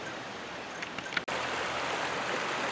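Roaring Brook, a creek in Pinchot State Forest near Moscow, Pennsylvania, flows with a steady broadband rush close by, its constant watery hiss continuing unbroken after a brief click.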